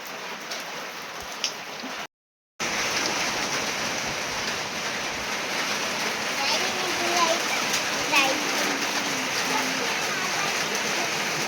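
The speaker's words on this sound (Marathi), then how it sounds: "तिथे खूप पाऊस चालू आहे" Heavy rain with wind and hail pours down in a dense, continuous roar in Buldhana district, Maharashtra, hammering nearby surfaces with scattered drips and splashes, after a brief cut of silence early on.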